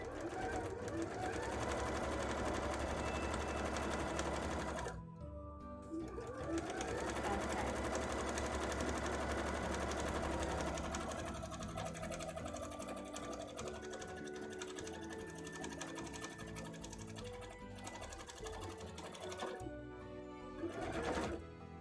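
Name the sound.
sewing machine stitching a cosplay petticoat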